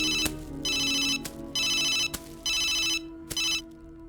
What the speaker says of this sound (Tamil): இரு, சந்தோஷுக்கு ஃபோன் பண்ணி வர சொல்றேன்.